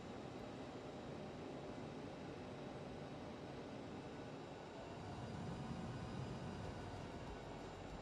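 Airliner taxiing in a flight simulator, a faint steady jet-engine rumble and hiss at low level, constant and unbroken with no talk.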